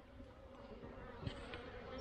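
Honeybees hum around a hive, a soft, steady, faint buzzing drone with a brief low knock partway through and no talking.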